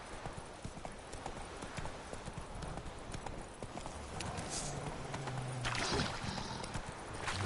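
Roach the horse gallops in The Witcher 3, a rapid run of hoofbeats close up, with snatches of game sound and a voice.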